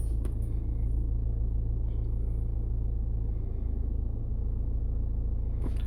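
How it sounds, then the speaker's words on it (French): A car engine cranks and runs at idle during a battery test, a steady low rumble filling the whole stretch, with a brief higher click near the start and end and no talk. "Hop, on démarre le véhicule."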